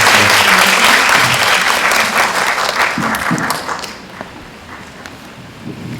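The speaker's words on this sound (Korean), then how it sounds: "큰 박수 부탁드리겠습니다" Film festival audience applauds in a cinema after a Q&A with a Korean actor, a loud dense burst of clapping that tapers off into scattered claps and quiet.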